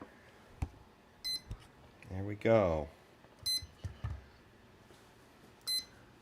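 An electronic device running without a receiver beeps in short, sharp bursts several times across a workshop bench, faint and intermittent, with a man's brief speech and some handling clicks in between.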